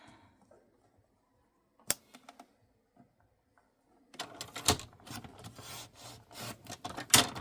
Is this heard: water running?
no